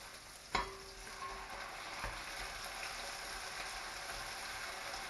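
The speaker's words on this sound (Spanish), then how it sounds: "La refreímos un poquito." Thawed frozen spinach and chopped ham frying in oil in a pan, a steady soft sizzle with a sharp clack of a utensil near the start and faint stirring.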